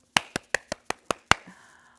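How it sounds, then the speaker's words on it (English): Sharp, close hand claps in a children's preschool action song, seven crisp, evenly spaced claps in quick succession, the last ringing a little longer before quiet. "Give a little clap."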